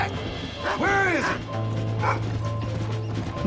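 Dog barks and yips in the Red Dead Redemption video game, a few sharp harmonic barks close by, over a steady low game hum and faint mechanical clicks, with talk around it.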